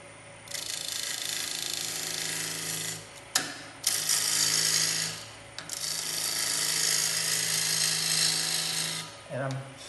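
A wood lathe turning a bowl whirs in bursts as the tool cuts into the spinning wood, with brief pauses between passes and a fresh bite of the tool near the end.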